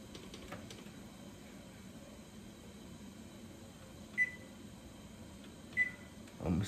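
A kitchen timer gives two short, faint beeps a couple of seconds apart as it is set, over a steady hiss from the room.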